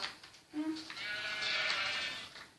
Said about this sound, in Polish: O, owca, zabiję ją.